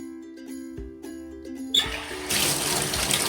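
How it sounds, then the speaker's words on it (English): Water pours steadily into a basin for washing crochet faux locs, a rushing splash that starts partway through after some soft clinking and tapping, growing louder and fuller. "I'm just catching enough to cover the hair once I submerge it in the water."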